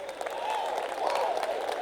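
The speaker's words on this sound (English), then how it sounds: "knew that would guarantee an applause" Lecture audience at the Stutt Lecture gives a brief burst of applause, a dense, steady patter of clapping from a sizeable crowd at moderate volume, with no speech over it.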